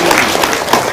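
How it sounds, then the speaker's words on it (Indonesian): A crowd at a lively community gathering breaks into brief applause, a loud, close, continuous rush of clapping lasting about a second. "Tepuk tangan dong"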